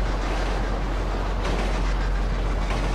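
A train ride in the GTA Online video game plays as a continuous rumbling rail roar with low hum, steady and loud throughout, with no talk over it.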